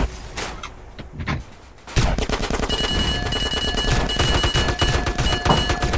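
Rapid automatic machine-gun fire rattles in a GTA San Andreas Multiplayer match, first in short bursts and then as a loud, sustained volley.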